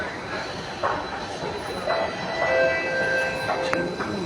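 A Chennai Metro train rumbles along steadily, with faint wheel squeals and brief clanks over the rolling noise, heard from inside the carriage.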